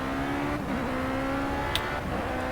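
A race car in a Formula-style racing video game at Monaco, engine droning at steady high revs while following in another car's slipstream, loud and continuous with a faint sharp click near the end.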